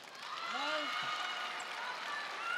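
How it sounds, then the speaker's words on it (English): A crowd cheers at the 2017 Qatar Open men's singles table tennis final between Ma Long and Fan Zhendong, a steady, fairly faint roar of fans filling the arena while a commentator talks over it. "Players having to wait to hear who wins the cheering argument in the crowd."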